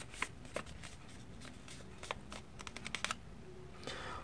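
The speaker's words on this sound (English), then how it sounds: "just fold the paper in half" Sheet of paper being folded in half for a paper airplane, a scattering of soft crinkles and sharp creasing taps at close range, quiet and irregular against near silence.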